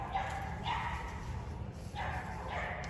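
A French bulldog, a younger male brought out during mating behaviour, gives a few short, close barks and yips spaced across a few seconds over a steady low background hum.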